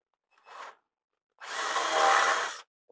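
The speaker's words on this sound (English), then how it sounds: "let's go ahead and do it from the back side here to deburr it" A small rotary tool deburring a part from the back side during a 1991 Polaris solenoid replacement, a short buzz followed by a longer, louder grinding whir, close by.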